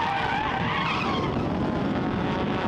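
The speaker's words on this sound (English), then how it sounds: "Webster and Shaw came together, spearing both cars off and onto the wet grass" Hyundai Excel race cars in a Tasmanian ACL series race at Baskerville skid off the track onto wet grass after colliding, a loud, continuous rush of engine and tire noise filling the whole stretch.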